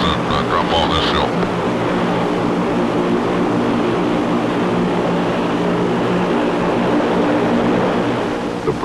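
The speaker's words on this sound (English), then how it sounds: "Engines must be kept running" Aircraft engines run continuously in Antarctic cold, a loud, steady propeller drone that fills the whole stretch while a voice narrates over it.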